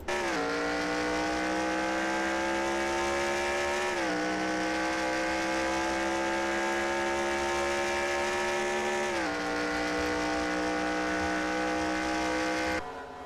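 Race cars scream down a long straightaway in a racing video game, a loud, steady high-pitched engine whine that holds while it climbs, drops briefly at two gear shifts, then rises again, with no talking.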